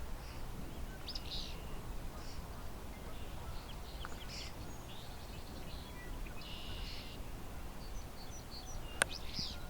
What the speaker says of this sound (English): the other birds around here, European starling, song sparrows, the occasional barn swallow